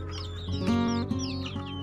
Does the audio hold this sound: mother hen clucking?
yes